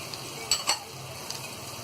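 Turmeric and coriander powder are stirred in a hot pan on low heat, giving a soft sizzling hiss with two quick scraping clinks of a spoon against the pan and a fainter scrape later.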